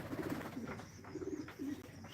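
Pigeons cooing at a pigeon house in the morning after feeding, several soft low coos in a repeating rhythm with gaps, fairly close.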